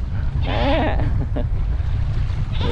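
A goat bleats at a fishing spot, a wavering nasal cry heard fairly close over steady low rumbling background noise, with a second shorter call at the end.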